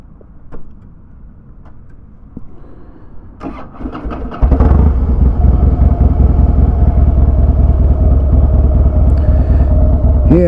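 A motorcycle engine cranks and catches a few seconds in, then runs steadily and loudly close by, a low rumble with no voices over it.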